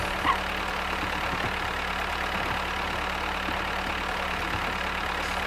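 Steady tractor engine idling in the farming video game Farmers Life, a constant low drone at moderate level, with no voices.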